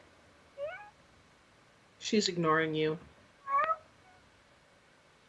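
Cat meowing in the Fallout video game, three separate short meows spread across the clip with a longer, louder call in the middle, heard alongside quiet talking.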